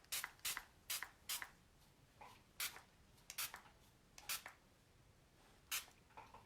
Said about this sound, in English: I'm coming off to the side, and I'm going to spray.